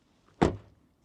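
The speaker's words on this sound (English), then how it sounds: "The rear door sounds better with the GLC." A rear car door from a BMW X3 M50 or Mercedes-AMG GLC 43 shuts once with a solid, close thunk that fades quickly into quiet.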